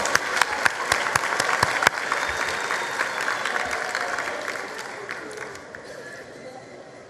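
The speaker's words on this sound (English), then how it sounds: "A round of applause once more." Applause from an audience at a school matric results ceremony, with sharp close-by claps punctuating a dense crowd clap that gradually fades over several seconds, faint voices beneath.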